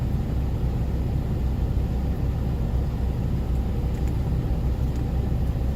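Truck hauling a load on the road toward Wisconsin, a steady low engine and road rumble heard from inside the cab, continuous and even with no voices.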